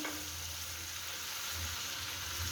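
Continuous sizzling of spices and Mughlai garam masala frying in a pan for a tadka, with low scraping and stirring sounds underneath, steady and close, with no voices.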